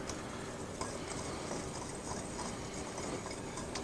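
Waffle batter being mixed in a bowl, with kosher salt among the ingredients: a steady, close, soft swishing and whisking texture that runs continuously without any talk.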